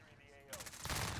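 AS VAL suppressed rifle firing in Modern Warfare multiplayer, a rapid burst of muffled shots that starts halfway through and grows louder toward the end.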